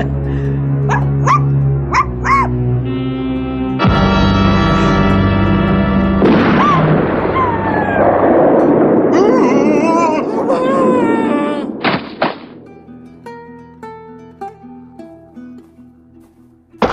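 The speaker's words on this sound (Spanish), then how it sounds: "se trata del disparo que recibe un juguetón e inocente perrito" A playful puppy yips and barks in a Dragon Ball anime scene, followed by a loud gunshot and dramatic music.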